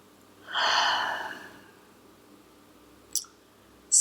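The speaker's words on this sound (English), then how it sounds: "Let's all take a breath here." One long, audible breath drawn in near the microphone, followed by quiet and a couple of soft clicks.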